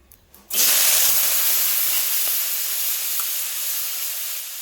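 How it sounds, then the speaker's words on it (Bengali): Vegetables hitting hot oil for frying, with kitchen sizzling that bursts in loudly after a short quiet start and then holds as a steady, close hiss to the end. "এখানে আমি তেল দিয়ে দিয়েছি, দিয়ে সবজিগুলো ভেজে নেবো।"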